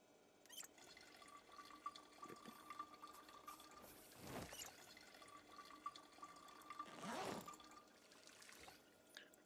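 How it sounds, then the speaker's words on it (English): Empty bottles are filled with water in the Project Zomboid video game: faint, quiet running water pours in two longer gushes, with small drips and clicks in between. "I am going to fill those."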